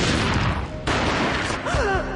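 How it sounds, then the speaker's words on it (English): Gunfire in the Max Payne mobile video game: loud, dense bursts of shots fill the scene, with a sharp break and then more firing. A short vocal cry rises near the end. "A gunshot boomed and she fell down in slow motion"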